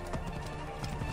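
Horse hooves clip-clop in the video game Assassin's Creed Origins, a brief burst of a few quick, close hoofbeats over a low background of game ambience.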